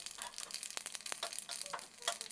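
Mustard seeds, cumin and torn dried red chilli tempering in hot oil make quiet crackling and popping in scattered sharp bursts over a faint sizzle.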